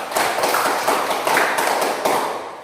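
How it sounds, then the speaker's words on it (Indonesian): A classroom group breaks into applause, a dense, steady patter of many hands clapping for under three seconds, with small swells in intensity. "Baik, beri aplaus untuk semuanya."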